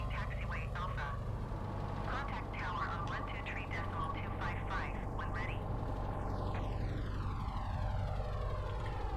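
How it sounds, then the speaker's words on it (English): A flight simulator video game produces an airplane engine drone, a steady hum under frequent talking, with a rising and falling sweep near the end. "This plane has some really interesting sounds."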